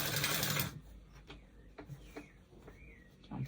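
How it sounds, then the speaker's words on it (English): A sewing machine runs briefly at the start, loud and continuous as it puts a top stitch along a bodice, then stops, leaving quiet handling clicks and small rustles of fabric. "Let's put a top stitch on it."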